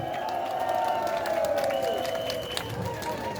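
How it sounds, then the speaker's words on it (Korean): Applause and cheering from a crowd at a Korean Marine Corps rally, a broad wash of clapping with a sustained tonal sound sliding down over it, continuing evenly. "힘찬 박수 부탁드리겠습니다"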